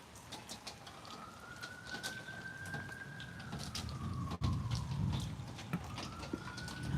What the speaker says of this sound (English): I wonder what the sirens are for.